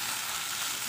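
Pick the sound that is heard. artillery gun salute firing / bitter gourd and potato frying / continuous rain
bitter gourd and potato frying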